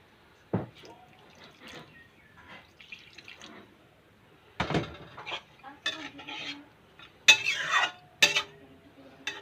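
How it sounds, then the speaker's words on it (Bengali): A little water is poured into a cooking pot on a home stove, with drips and splashes amid clinks of the pot and utensils, coming in short scattered bursts that grow louder toward the end. "সামান্য জল দিয়ে দেবো।"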